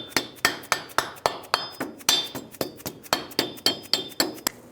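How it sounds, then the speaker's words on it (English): Rubber mallet tapping a front wheel bearing cap into place on a 2003-2009 Toyota 4Runner: a steady series of about eighteen close, sharp knocks with a slight metallic ring, evenly spaced and heard alone. "Use a rubber mallet and tap it on."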